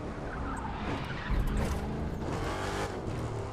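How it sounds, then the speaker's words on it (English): A car in the racing video game The Crew 2 roars with a thick, meaty engine note, loud and continuous, with a hint of tire squeal as it speeds along. "But the sound of this car is just so meaty."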